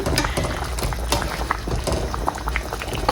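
A pot of Tamil-style crab curry bubbles at a rolling boil on the stove, with a close, continuous gurgling and popping.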